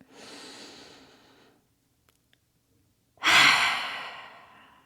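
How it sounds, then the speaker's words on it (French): Deep yoga breathing: a slow, soft inhale, a quiet pause, then a louder, forceful exhale released through the mouth, close and alone. "on inspire. Et puis on expire, on lâche prise."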